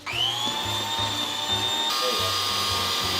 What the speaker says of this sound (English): Mixed with a hand mixer?